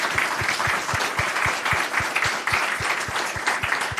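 Audience applauding seminar panellists at an energy and carbon event, a steady, dense round of clapping that holds evenly for several seconds without speech.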